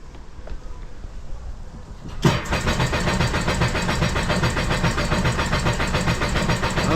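A 2021 Sea-Doo RXT-X jet ski engine cranks and catches after about two seconds, then settles into a steady, loud mid-pitched running drone that continues to the end without talk.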